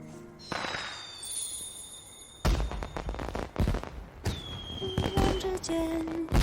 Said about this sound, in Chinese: 外面有烟花声，你听到了吗？